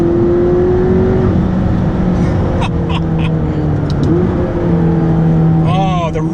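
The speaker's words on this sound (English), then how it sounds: "It just takes right off! Now you can really hear those turbos back there." A McLaren 12C's twin-turbo engine pulls hard under acceleration, a loud, rising drone heard from inside the cabin with steady tonal whine, while a person talks over it near the end.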